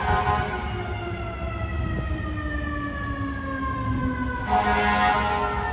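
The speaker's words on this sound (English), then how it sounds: "That is the real sound of New York City." A busy Midtown Manhattan street on a Saturday evening roars with traffic noise while a fire truck siren wails and slowly falls in pitch, loud and close, then a burst of broadband noise.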